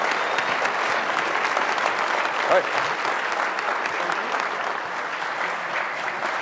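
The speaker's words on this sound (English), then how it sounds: "if we could get a round of applause for Kevin," Sustained applause from a crowd at a Toronto Blue Jays Canadians of the Year club luncheon, steady and full for several seconds, with a brief spoken remark heard over the clapping.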